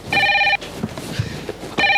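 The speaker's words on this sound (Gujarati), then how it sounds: "ફોન." Telephone ringing on stage during a Gujarati comedy drama performance: two loud bursts of electronic ringing, one at the start and one at the end, with a pause of faint room noise and brief movement between them.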